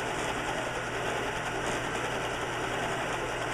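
A sewing machine stitches across a quillow, a quilt that folds into a pillow, with a steady, unbroken mechanical whir and hum that stays close and even, and no one speaking.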